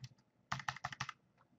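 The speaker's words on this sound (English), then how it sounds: "I mean, I could just hit enter." Computer keyboard keys clatter in a quick burst of about half a dozen close, crisp presses, with a few faint taps before and after.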